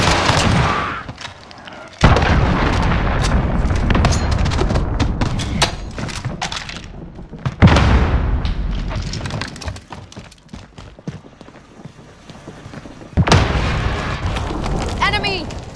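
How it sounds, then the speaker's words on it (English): Call of Duty Modern Warfare team deathmatch: an allied cruise missile launches and explodes, heard as heavy booms and thuds mixed with bursts of gunfire, loud and close, with sharp impacts recurring amid the battle noise. "Allied cruise missile away."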